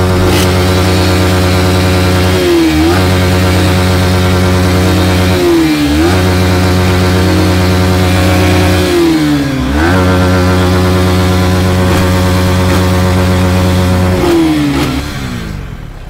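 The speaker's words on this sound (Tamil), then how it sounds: "ரெண்டு வண்டிக்கு த்ராட்டில் பண்ணி பார்ப்போம், யார் வண்டி சவுண்டு அதிகமாக இருக்குன்னு பார்ப்போம்" Two motorbikes, a kutty TTF bike and another bike, revved hard and close: a loud, continuous engine drone climbing in about four separate throttle blips at an even rhythm, with no talk.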